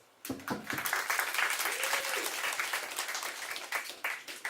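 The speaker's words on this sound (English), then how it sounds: "I think that deserves a round of applause." An audience at a talk on drag culture at NTU breaks into sustained applause, a dense wash of many hands clapping that starts abruptly and keeps going steadily, with voices faintly mixed in.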